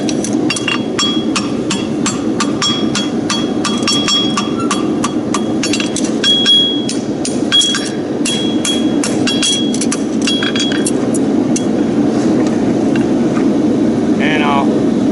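A farrier hammers a steel horseshoe on an anvil to fold and stretch its edge, a rapid run of sharp ringing metallic strikes close by over steady background hum, easing off toward the end.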